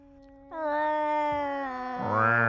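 A cat yowls loudly up close, a long drawn-out wail that rises and swells into a louder, harsher cry at the end.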